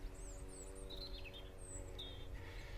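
Several birds chirp and trill in short high calls over a steady low lawnmower hum, moderately distant, in Carrowcrory Labyrinth Gardens in March.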